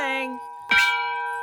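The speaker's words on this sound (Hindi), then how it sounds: "जब भी तुम मंदिर की घंटी बजाती हो" A temple bell rings out with a clear metallic tone, then is struck again as a sharp clang whose bright, sustained overtones hum on to the end.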